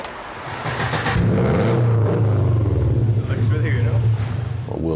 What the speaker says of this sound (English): driving their car for them back to the nick